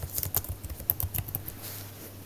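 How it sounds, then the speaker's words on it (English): Fingers tap a computer keyboard close to the microphone in a quick, uneven run of light clicks, then slow and stop near the end. No one speaks. "they're going to type in their city"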